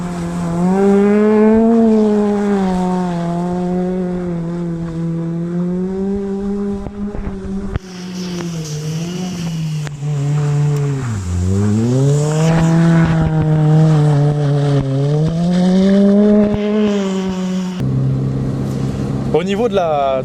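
Mazda MX-5 driving on snow, a loud engine note rising and falling as revs change through repeated acceleration and lift-off, with brief wind noise.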